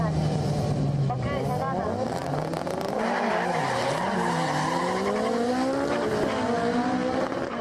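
Turbocharged drag race between a T88-equipped Mazda RX-7 and a yellow Nissan Silvia with a 1.8-litre CA18 engine at a Sendai JDM event: loud rising engine wails and tire squeal, with voices underneath.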